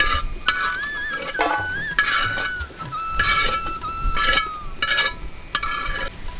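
Grated coconut being dry-roasted in a pan for a Maharashtrian-style brinjal dish, a soft steady sizzle with repeated scraping and stirring strokes of a spatula, close and fairly loud, accompanied by a thin whistling tone.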